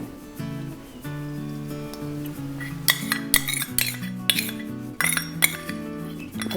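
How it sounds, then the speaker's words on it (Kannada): A metal frying pan set on a stove with ghee added for tempering, several bright clinks and clatters of metal against metal, close and fairly loud, played over steady background music without talk. "ಸ್ಟೋವ್ ಮೇಲೆ ಬಾಣಲೆಯನ್ನಿಟ್ಟು ಹಚ್ಕೊಂಡಿದ್ದೀನಿ ಇದಕ್ಕೆ ತುಪ್ಪವನ್ನು ಸೇರಿಸ್ತಾ ಇದ್ದೀನಿ"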